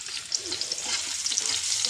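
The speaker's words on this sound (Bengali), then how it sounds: "তার জন্য পেঁয়াজ আর কাঁচা লঙ্কা ফোড়ন দিই" Onion and green chili frying in white oil in a kitchen pan, a steady close hiss and crackle of sizzling with small pops, continuous for a couple of seconds with no voices.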